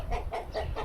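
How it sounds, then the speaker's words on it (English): Homestead chickens cluck close by in a quick repeating series of short, throaty calls, about four bursts in under a second, with no talking. "I see Willie with the chickens."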